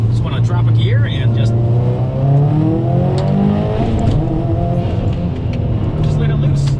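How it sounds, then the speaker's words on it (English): A car engine on a 2015-2020 model with drop springs revs up hard after a downshift, the pitch climbing in repeated rising sweeps, loud and close with a voice talking over it. "there are times where I just want to drop a gear and"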